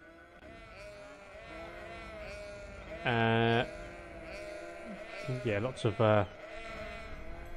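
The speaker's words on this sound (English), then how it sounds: "we got some lambs. We've got a few lambs." Sheep bleat in Cities: Skylines Industries, a city-building game with lambs on a farm area: one loud bleat, then a cluster of two or three more a couple of seconds later, over a constant game soundscape while someone talks.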